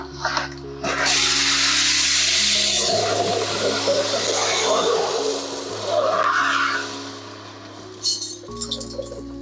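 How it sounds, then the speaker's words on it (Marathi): Thirty kilograms of soybean seed are poured into a seed treatment machine, giving a loud rushing rattle of seeds for several seconds, then a softer trickle while a steady hum continues underneath. "ते तीस किलो बियाणं आपण असं याच्यामध्ये टाकतोय मशीनमध्ये"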